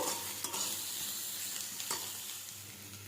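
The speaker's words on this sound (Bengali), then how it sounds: "কেটে রাখা সবজিগুলো সব দিয়ে দেবো দিয়ে ভেজে নেব" Chopped vegetables fry in hot oil with tempered mustard seeds, giving a steady close sizzle broken by a few sharp scrapes of stirring, with no talk.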